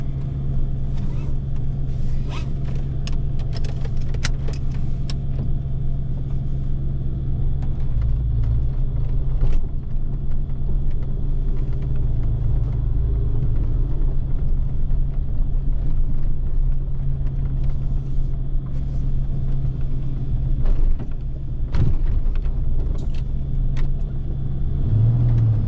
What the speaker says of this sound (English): So, how about we get to driving this?